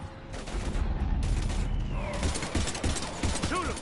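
Mass Effect combat gunfire, rapid loud bursts of shots mixed with mechanical clatter and other game effects, continuous over nearly four seconds with brief voice-like sounds near the end.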